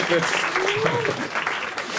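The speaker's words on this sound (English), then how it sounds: "A round of applause." Brief audience applause at a live comedy gossip show, fairly close and mixed with talking and a rising whistle-like tone over the clapping.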